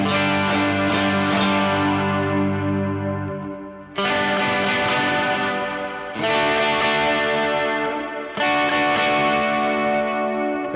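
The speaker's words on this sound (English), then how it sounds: "this is also a great pedal because the harder I play, the more it's going to break up" An electric guitar played through an overdrive pedal rings out in strummed chords, starting clean and soft and then breaking up into gritty distortion as it is struck harder, with sustained chords separated by brief pauses.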